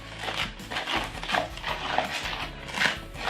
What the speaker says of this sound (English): then we're going to take the spoon and mix it in